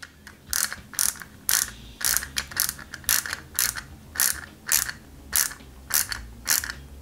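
Screws are driven into parts of an IXO Collections Peugeot 205 GTI 1.9 model kit: a close, steady series of sharp ratcheting clicks in regular bursts, with no voices.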